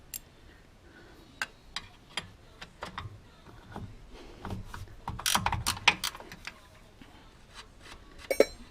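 A ratchet clicks in short, irregular bursts while loosening a bolt during rack and pinion work on a Toyota Camry, along with scattered metallic taps and clunks, close by and fairly quiet.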